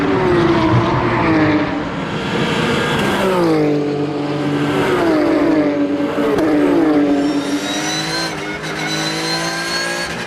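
Race cars at the Magny-Cours circuit during the final race of the season, loud engines screaming past with rising and falling revs as several cars go by one after another, no talking.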